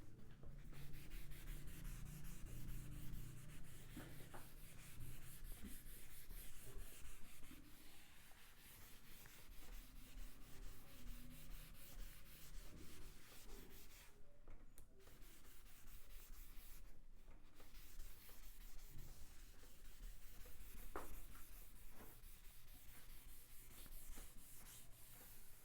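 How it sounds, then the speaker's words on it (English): An eraser rubs a hand-drawn spherical mirror ray diagram off a classroom board, making steady close scraping strokes that run almost without a break for the whole stretch, with no voices. "So for that I am rubbing this diagram."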